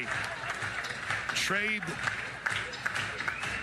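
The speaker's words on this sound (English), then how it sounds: "listen to this crowd respond" The crowd at a college softball game between Oklahoma and Kansas cheers and applauds, a broad, fairly distant roar beneath a commentator's steady talk.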